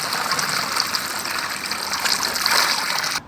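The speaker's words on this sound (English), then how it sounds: "filling up those water bottles" Water gushing steadily into bottles at a village refill stop during a cycling trip, a loud continuous rushing stream with no talk.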